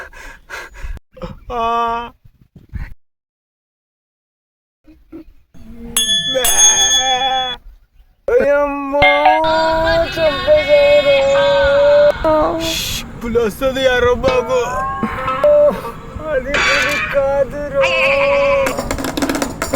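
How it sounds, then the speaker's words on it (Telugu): A goat bleats repeatedly in wavering cries amid other loud, tonal sounds, with a person speaking briefly near the start. "అది మేక"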